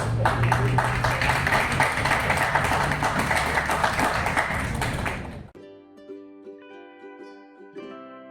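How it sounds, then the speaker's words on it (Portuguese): An audience claps for a book author at a televised culture event, a dense round of applause lasting several seconds before it gives way to soft, sparse musical tones. "Parabéns, Rony, uma salva de palmas para ele."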